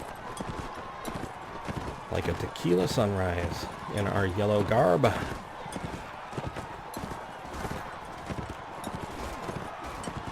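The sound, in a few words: horses galloping in the video game Mount & Blade: Warband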